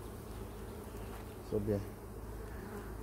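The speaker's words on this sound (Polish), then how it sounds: "Pszczoły pracują, można powiedzieć, intensywnie." Honeybees work a heavy, uncapped hive frame with queen cells, giving a soft steady buzz close by while a voice briefly speaks over it.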